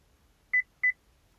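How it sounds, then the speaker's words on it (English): A Chevy GMC truck gives two short, clear electronic beeps about a third of a second apart while a remote key fob is being programmed, with quiet between them. "Okay, we got a beep."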